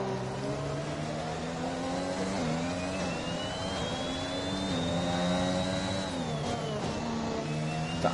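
An AlphaTauri Formula 1 car in F1 2021 at the Netherlands circuit screams past at high revs, a steady loud engine whine that rises and falls through gear changes for the whole stretch, with no talk.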